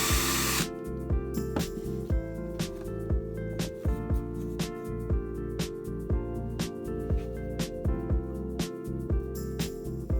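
A power drill bores holes for four hooks in a homemade key hanger before painting, with a steady motor whine and repeated short bites and clicks running through the whole stretch, fairly close.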